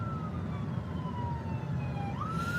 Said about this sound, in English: And there's a ambulance coming.